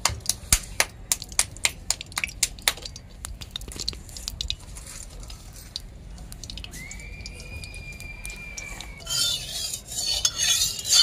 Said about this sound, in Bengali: এখন আমি ভালোভাবে তেলটাকে কড়াইয়ের চারিপাশে ভালোভাবে